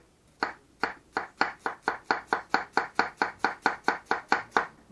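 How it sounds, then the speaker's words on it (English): A kitchen knife chops on a cutting board in a fast, steady rhythm of about fifteen crisp close-up strikes with no talking. "Now you can hear me chopping"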